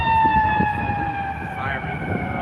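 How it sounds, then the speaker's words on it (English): Emergency vehicle siren wailing steadily nearby on a Chicago street, its sustained tones sliding slightly in pitch over a low traffic rumble. "Siren."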